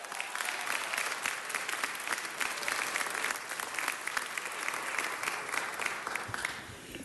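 Sustained, even applause from a crowd at a city council meeting, steady clapping throughout that tapers slightly at the very end.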